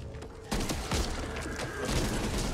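In Back 4 Blood, a burst of rapid gunfire rattles from a teammate's weapon, a dense fusillade of shots that starts abruptly and stays quite faint under the game's mix.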